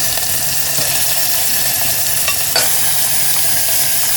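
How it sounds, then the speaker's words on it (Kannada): Finely chopped onions sizzle and fry in hot oil in a pressure cooker for tempering, a loud, steady hiss with occasional stirring scrapes. "ಕಟ್ ಮಾಡಿರೋ 2 ಸಣ್ಣದಾಗಿ ಹೆಚ್ಚಿರೋ ಈರುಳ್ಳಿ ಹಾಕ್ಕೊತಾ ಇದ್ದೀನಿ ಒಗ್ಗರಣೆಗೆ"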